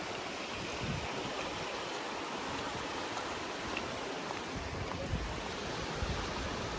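Water rushes steadily at Panchghagh waterfall in Khunti, a constant broad roar of flowing water without a break, fairly close and moderately loud, with occasional wind buffeting on the microphone.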